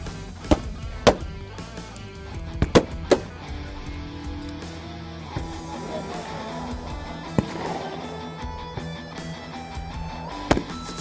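Sharp gunshots crack one after another at irregular intervals at an outdoor military training ground shooting range, several loud reports with quieter rumbling and background activity between them.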